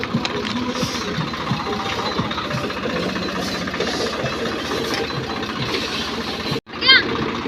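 A seed drill sowing maize runs steadily in a field, giving off a continuous mechanical clatter and hum with faint voices underneath, then briefly cuts out near the end.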